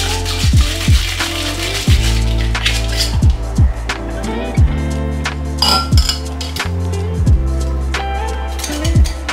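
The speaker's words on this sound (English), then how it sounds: "Give that a very good shake here." A cocktail shaker holding a floral rose geranium drink with club soda, shaken hard, giving a loud, rhythmic run of rattling clinks with sharp repeated knocks for several seconds.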